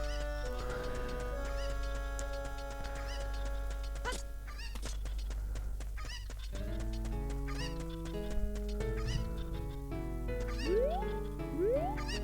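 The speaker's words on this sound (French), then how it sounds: "Ah, mais elle est revenue là, la poule." Chickens cluck and squawk in a Zelda video game, faint little calls over a loud, steady game music track with melodic notes and sweeping tones.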